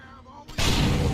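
A boss firing a shot in Deus Ex: Human Revolution: a quiet lead-in, then a sudden loud burst that holds as a dense boom for the rest of the moment.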